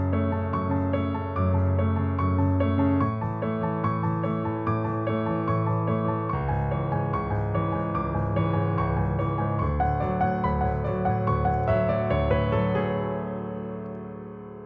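Solo piano plays the fourth-repetition variation of a piece, sustained chords and a flowing melodic line ringing clearly for about fifteen seconds before fading out.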